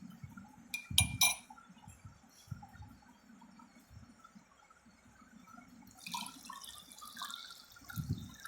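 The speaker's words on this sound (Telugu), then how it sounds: "జల్జీరాని ఈ గ్లాస్లో వేద్దాం." Jaljeera juice is poured from a steel glass into another glass, quiet close trickling and splashing with a few clinks of metal on glass, then a soft liquid swirl near the end.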